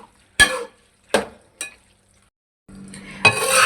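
Chopped fresh coriander stirred into chicken macaroni in a pot with the stove switched off. Three short scraping strokes, then a steady scraping and shuffling that carries on to the end, close and fairly quiet.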